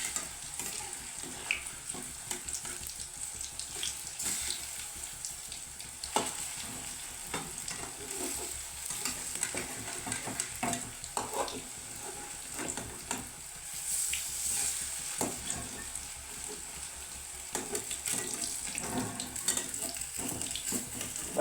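Banana fritters (pazhampori) fry four at a time in coconut oil, giving a continuous bubbling hiss with scattered crackles and occasional clinks of a utensil against the pan. The sound stays close and even throughout, with no talking.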